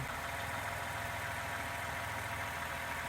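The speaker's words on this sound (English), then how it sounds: "engine's running, back under the car" A 2014 Toyota Highlander engine idles steadily during an oil change, heard from beneath the car as an even, continuous mid-low rumble with no talking.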